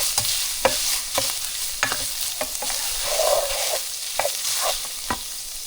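Ground beef and onions for beef burritos sizzling in a pan, with a steady frying hiss broken by sharp, intermittent spatula scrapes and taps, close-up and without voices.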